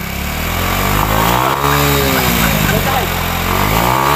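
A motorcycle engine runs loud and close, its revs rising and falling in a wavering drone throughout, while a voice speaks briefly over it.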